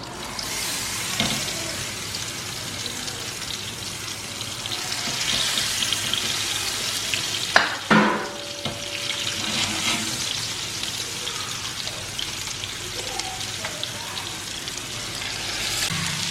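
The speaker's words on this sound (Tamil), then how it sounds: "இப்போ வந்து ஃபிஷ்ஷை ஃப்ரை பண்ணிடலாம்." Fish frying in coconut oil on a flat tawa makes a steady, close hiss throughout, with one sharp clatter partway through and faint popping, and no talking.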